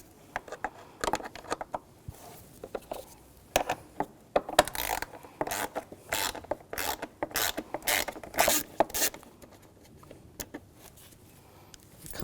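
Screws being removed from a 2011-2018 Volkswagen Jetta 2.0L during radiator replacement, giving a string of sharp ratcheting clicks and metallic ticks in irregular bursts, close and fairly quiet, with no talk.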